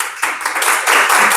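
Audience applause at an annual debate contest, a dense wash of many hands clapping continuously at close range, steady and loud without pause.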